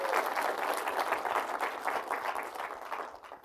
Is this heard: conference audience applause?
yes